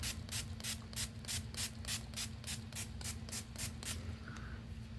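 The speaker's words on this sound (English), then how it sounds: "We have our spray bottle, and I'm just gonna start" Hand spray bottle misting dye ink onto paper in a paper-dyeing session: about a dozen quick, evenly spaced hissing squirts in a steady rhythm, close by, then a short pause.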